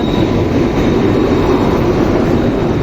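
A passenger train hauled by a WAP-7 electric locomotive from the Krishnarajapuram shed stands at the platform, producing a steady, close broadband rumble with no speech.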